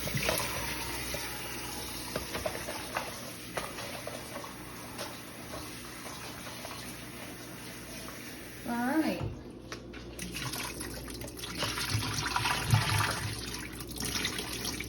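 Water runs steadily from a tap throughout, rinsing vinegar water off vegetables, with clattering and a brief voice partway through, then splashing picks up near the end.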